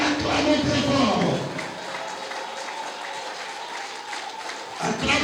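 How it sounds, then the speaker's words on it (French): An audience stands and claps at a session held by the Fondation Initiative Citoyenne: a strong burst of crowd applause that is loudest in the opening second or so, then thins into lighter clapping under voices. "Je voudrais que nous nous tenons debout et que nous l'acclamons très fort."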